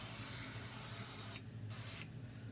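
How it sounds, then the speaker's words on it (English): Canola oil cooking spray hissing onto a pie plate in a kitchen, two close bursts of aerosol spray, the first longer, the second brief, no talk. "I use canola oil spray for this."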